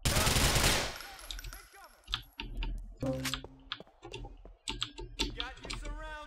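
Gunfire in GTA IV comes as rapid bursts of sharp, clicky shots in uneven clusters after a loud noisy opening. A voice talks faintly beneath the shooting.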